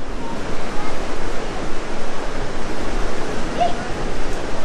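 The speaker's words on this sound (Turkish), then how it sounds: "Burası biraz dalgalı, evet." Waves crash and wash onto a Bali beach in a dense, constant surf roar, near and loud, with low wind buffeting underneath.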